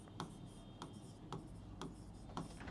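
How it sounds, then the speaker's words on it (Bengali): A pen writes on a fresh page of paper with faint, close scratching strokes in a loose rhythm of about five quick scribbles. "আমি যদি একটু নেক্সট পেজে লিখি"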